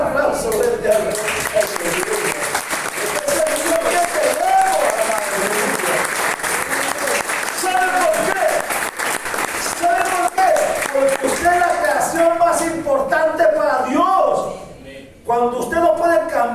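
A church congregation claps loudly and continuously throughout, while excited voices and shouts rise over the applause until a brief dip near the end.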